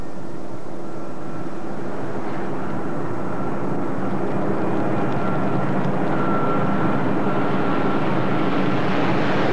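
Formation of aircraft flying past at a Battle of Britain anniversary flypast, a steady, broad engine roar that stays loud and sustained throughout with no voices.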